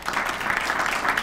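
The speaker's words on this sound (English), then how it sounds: "I think that deserves applause." Steady crowd applause, a dense wash of clapping from many hands at even loudness throughout, with no voices standing out.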